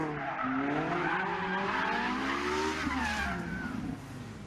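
A Ferrari 458 Italia on a track, engine revving hard with climbing pitch sweeps while the tires squeal and skid through a corner, loud and continuous before easing off near the end.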